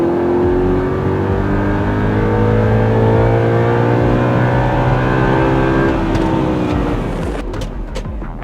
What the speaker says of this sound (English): The V10 shrieks and howls, but the V8, it sounds like a muscle car.